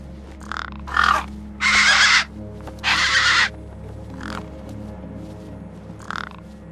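A crow caws in the game Beyond a Steel Sky, giving about six harsh calls: two long, loud rasping caws in the middle, with shorter, softer ones before and after over a low ambient hum.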